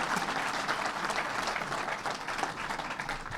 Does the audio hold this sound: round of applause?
yes